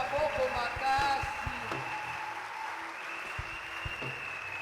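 Church congregation at a Sunday service applauding as an offering to the Lord, soft massed clapping with a sustained tone and voices mixed in, fairly faint and steady.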